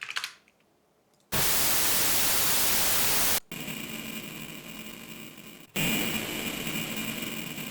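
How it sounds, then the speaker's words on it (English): A big crushy distortion effect from a homemade audio plugin, applied to a sine wave source, switches on and off in loud blocks of harsh, dense static-like noise separated by brief silences. "It kind of have this like big crushy distortion effect."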